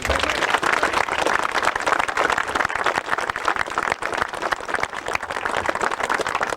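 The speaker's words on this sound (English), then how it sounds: "let's all give them a round of applause" An outdoor crowd at a mountain railway centennial ceremony on Echo Mountain applauds, a dense, steady wash of many hands clapping at close to moderate distance, sustained throughout with no talk over it.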